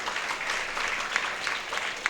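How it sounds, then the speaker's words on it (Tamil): An audience at a Tamil-language stage program applauds with steady, dense clapping that fills the brief moment, fairly close and with no talk over it. "ஒரு உற்சாகமான கைத்தட்டல்களை நீங்கள் வழங்கணும்"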